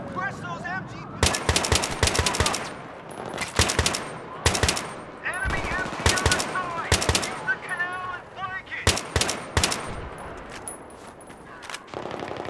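Machine gun fire rips from an MG nest in the Battlefield 3 video game. Loud rapid bursts of automatic fire repeat through the clip, and several short gaps in between carry game voices and effects.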